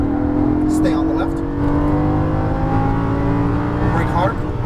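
A Lamborghini Gallardo LP550-2 accelerates at full power on a racing course, engine roaring loud and close with climbing pitch through gear changes, while an instructor speaks over it.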